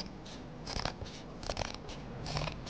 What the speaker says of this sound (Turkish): Bu makas sesine bayılıyorum.